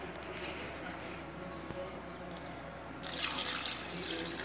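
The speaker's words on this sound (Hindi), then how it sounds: "और आधा किलो के करीब पानी डाला है" Water, about half a kilo, pours steadily into a pot of beef and tinda curry, a bright splashing rush starting partway through over a quiet kitchen background.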